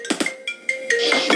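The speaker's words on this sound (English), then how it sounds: "Too much phone call are coming, I can't take all of them." A phone rings with an incoming call, a loud, close electronic ringtone of repeated short melodic tones with no talking.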